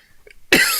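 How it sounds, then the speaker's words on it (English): A single sharp, loud cough bursts out close by after a near-silent moment, followed by a breathy, fading tail. "Here's that cough from the pill I take."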